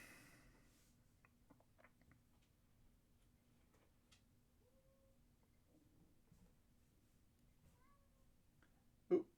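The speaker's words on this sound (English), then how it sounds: "if you can hear the meowing in the background," A house cat meows faintly in the background of a quiet indoor room, a few soft, distant cries spread apart with a sharper noise near the end and no talking.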